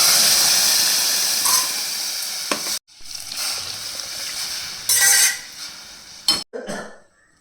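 Tur dal dropped into hot oil tempered with asafoetida and turmeric on a lowered gas flame, giving loud steady sizzling and hissing with abrupt breaks and a few pan clinks.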